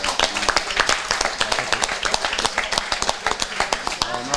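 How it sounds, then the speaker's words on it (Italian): Lively close clapping from an audience at an award ceremony for a Piedmontese beef cattle show in San Giorgio Scarampi, a dense run of hand claps with murmured voices underneath. "Marco, un applauso."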